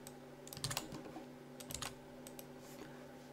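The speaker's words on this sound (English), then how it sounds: "we type in cpanel after the domain" Soft keystrokes on a computer keyboard, two short bursts of typing separated by a pause, faint and close over a low background hum, with no talking.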